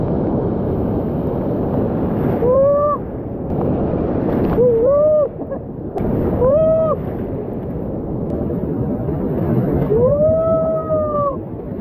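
Strong ocean waves roll in at Sabang beach in Baler, Aurora, a surfing spot, with a continuous close roar of surf and several brief rising whistle-like tones over it.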